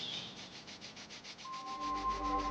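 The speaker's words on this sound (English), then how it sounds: "join your palm in Namaste and rub your palms." Palms rubbing together during a yoga relaxation sequence make a soft, steady friction hiss close by, with no talking over it.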